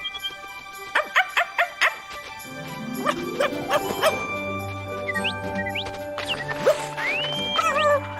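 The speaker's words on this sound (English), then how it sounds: "Now, Jingle was a good dog." A cartoon dog barks in a quick run of sharp, evenly spaced yaps, then music and bird-like chirps take over, with a brief jingle late on.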